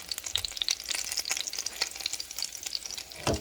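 Salmon croquettes fry in a pan with a busy, crackling sizzle and sharp popping spatters, close by and steady, ending with a soft scrape and no talking.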